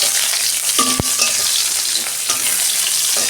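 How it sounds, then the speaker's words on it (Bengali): Onions with cumin sizzle in hot oil with a dense, steady crackle, broken by a spoon knocking once against the pan and a few light stirring scrapes. "পেঁয়াজ আমি 2 মিনিট ভেজে নেব"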